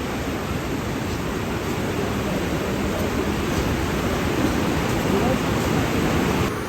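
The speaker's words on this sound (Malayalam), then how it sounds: "നല്ല ചൂട് തിളച്ച വെള്ളം ഉണ്ട്." Hot spring water flows steadily at Kasol, a loud, continuous rushing wash with no pauses from start to finish.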